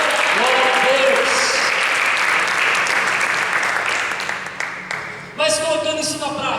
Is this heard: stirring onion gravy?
no